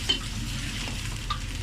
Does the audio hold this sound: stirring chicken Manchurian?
yes